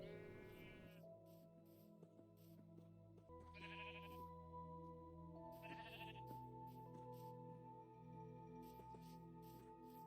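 Several Minecraft sheep bleat in separate, drawn-out calls at a moderate distance over a steady layer of background game music, with no voices.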